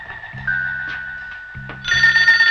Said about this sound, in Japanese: ああ、電話。